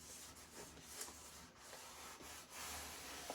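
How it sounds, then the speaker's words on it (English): Fingers or a tool rubbing steadily along the edge of a paper template laid over dress lining fabric for covering a Fokker D7 RC model plane; a quiet, continuous close-up scraping with slight swells, no talking. "You can see all I'm doing is rubbing along the edge,"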